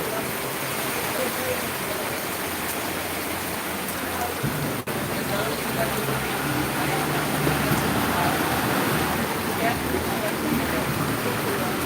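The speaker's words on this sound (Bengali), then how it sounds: "রাতের বৃষ্টি তো" Sudden night rain falling steadily in a town street with autos and rickshaws nearby, a dense, even hiss of drops continuing throughout the clip with a faint light wind and no clear voices.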